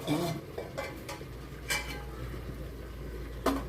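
Country chicken being stirred in a pot without oil, metal spoon scraping and clinking against the pot in a few sharp knocks over a low bubbling cook, close by, with no speech.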